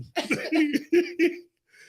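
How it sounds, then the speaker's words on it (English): A run of rapid, voiced bursts that could be coughing or laughter, close to the listener, ending abruptly in quiet. "Why I'm coughing."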